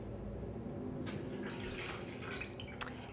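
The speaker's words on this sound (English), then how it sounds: "you want to take your butter and pour it in your bowl" Melted butter poured into a bowl, a faint soft trickling splash with a few drips, quiet and close with no talk.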